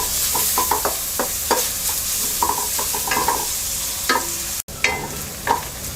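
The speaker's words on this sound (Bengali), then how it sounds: "এবার পেঁয়াজটাকে আমরা হালকা ভেজে নেব।" Onions frying lightly in two tablespoons of oil, a steady close sizzle broken by repeated scraping and stirring strokes of a spatula against the pan.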